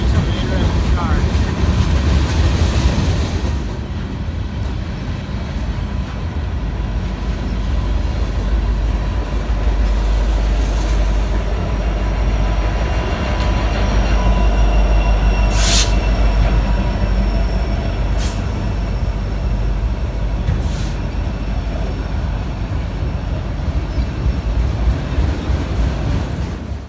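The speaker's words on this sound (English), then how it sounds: "I'll show you the whole train." A freight train passes in Princeton, Indiana, its steady loud rumble of wagons and wheels holding for the whole stretch, with brief high wheel squeals near the middle and no talk.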